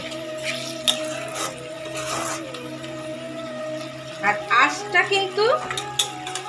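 Fried puti fish is stirred into curry gravy in a metal pan, with a soft background hum, then a burst of scraping and clinking as a spoon works the pan near the end.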